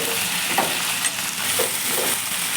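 Okra and onions fry steadily in a pan with a loud, continuous sizzle, while a ladle stirs through them in a few soft scraping strokes.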